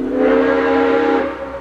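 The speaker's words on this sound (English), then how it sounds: "it's one of Sierra Railway No. 3's whistles." A Super Mario video game steam locomotive whistle, one of Sierra Railway No. 3's whistles, blows one sustained chord of several tones, loud and steady, fading slightly at the end.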